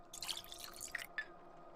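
Water drips in the video game Pathologic 2 as a few faint, soft drops fall close by in an otherwise quiet space.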